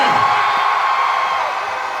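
A big rally crowd at a 2025 election event for Mayor Vico Sotto roars with cheering and shouting, a dense, loud, sustained din that eases slightly toward the end.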